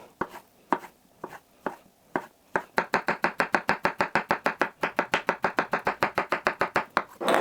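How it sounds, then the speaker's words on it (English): Bananas sliced with a knife on a cutting board: sharp chopping taps, sparse at first, then a fast, even run of close, crisp cuts with no talk. "slices of these bananas. Not too thick."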